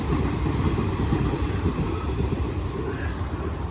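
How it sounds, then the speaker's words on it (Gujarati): A train rumbles past close by, its wheels clattering and rattling steadily with no break. "મિત્રો ટ્રેન જાય છે"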